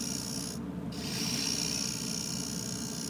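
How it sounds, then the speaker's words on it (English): An Easy Wood number 1 carbide hollowing tool with a negative rake cutter scraping inside a wooden hollow form on a lathe, giving a continuous quiet raspy hiss under the lathe's hum, briefly interrupted. "Using the Easy Wood hollower here, number 1 hollower with the negative rate carbide cutter."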